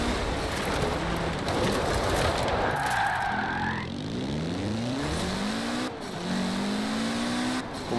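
Mitsubishi Evo 9 rally car in Forza Horizon 4, its engine revving hard with rising and falling gear sweeps, tires skidding and squealing through a sharp turn, loud and continuous with no voices.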